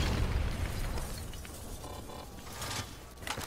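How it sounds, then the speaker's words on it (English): Rogue robots detonating in the Call of Duty Black Ops III video game, a rumbling explosion with crackling debris and sharp metallic pops that fade and flare again. "They're about to detonate!"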